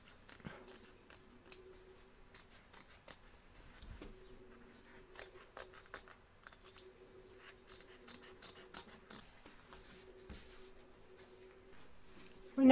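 Scissors snip appliqué embroidery fabric free from the hoop on The Hive piece of a Busy Bee appliqué set: a steady run of sharp, close snips and clicks over a quiet background, with no one speaking.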